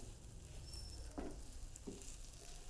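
Chicken cooking with chilies in a pan makes a quiet, faint sizzle under a low background hiss, broken by two brief scraping stirs.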